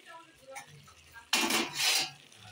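A lid lifts off a pot of boiled mixed vegetarian vegetables, including papaya, squash and sweet pumpkin, cooked as a festival offering. A sudden, fairly loud metallic clatter and scrape follows a quiet stretch of faint kitchen sounds, then rings briefly before fading.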